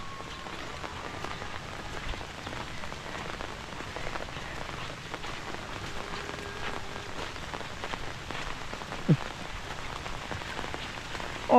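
Rain falling on surfaces at a rural Lao farm, a dense, even pattering that runs throughout with no voices.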